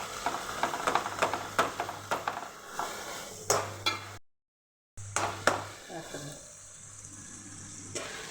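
A spoon stirs cauliflower curry with tomatoes cooking in a pan, giving repeated scraping clinks against the metal over a soft sizzle, broken by a short gap before the stirring resumes.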